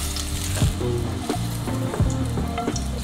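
Food sears in a hot pan with a steady, close sizzle. Faint clinks and stirring sounds occur now and then, and no one speaks.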